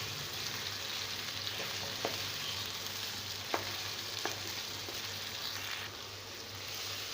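Chicken frying in ginger garlic paste in a kadhai over high flame, a steady close sizzle with a few faint clicks of stirring, with no talking.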